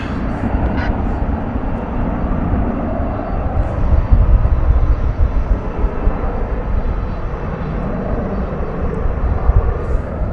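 A fixed-wing airliner at Dallas/Fort Worth International Airport runs its engines on the runway at night, a steady broad roar with a slight swell midway, continuous and moderately close.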